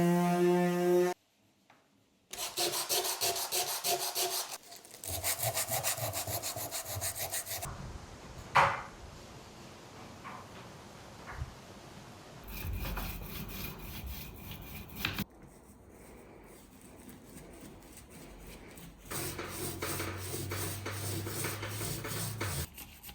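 A wooden dresser being sanded by hand, with repeated rough rubbing and scraping strokes in separate bursts broken by short pauses, close and moderately loud.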